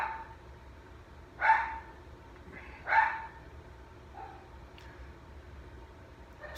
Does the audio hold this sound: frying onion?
no